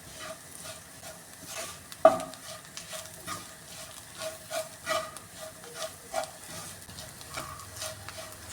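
Spice powders toasting in a pan for chicken curry, with a soft frying hiss under a series of rhythmic scraping stirs and one sharp knock early on.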